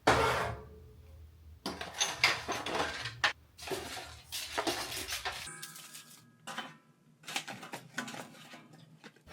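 A metal loaf pan clatters and scrapes among other kitchen pans, with irregular bursts of clanking and knocking, close and fairly loud, separated by short pauses.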